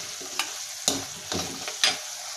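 Mint leaves frying in hot oil for a mint chutney, giving a steady close sizzle broken by several sharp scraping strokes of a spatula against the pan.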